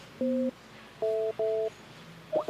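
Clean electronic telephone tones sound while a number is dialed, three distinct steady beeps of differing pitch spaced a fraction of a second apart, followed by a short warbling chirp.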